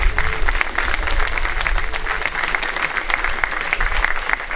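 Congregation applauding during a closing Mass of a pastoral visit in a church, a continuous, even wash of many hands clapping throughout, fairly loud and reverberant with no pauses.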